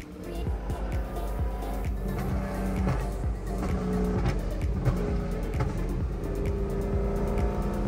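A Dodge Challenger SRT Hellcat Redeye engine rumbling and revving loudly and close up as the car drives off, with a rapid, throbbing exhaust note throughout and a voice speaking faintly over it.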